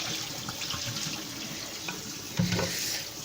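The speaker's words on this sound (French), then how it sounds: "là le lave-vaisselle tourne, on l'a mis en route" A running dishwasher in a home, sloshing water with a steady wash of spray and a brief clunk near the end, fairly quiet.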